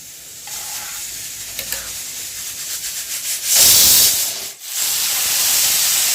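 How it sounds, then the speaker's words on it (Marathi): Homemade ghee sizzling on a hot griddle for curd toast, a loud, close hiss that swells into a bright burst of frying, dips for a moment, then settles into a steady sizzle. "तवा तापल्यानंतर तूप घाला घरचं तूप वापरा"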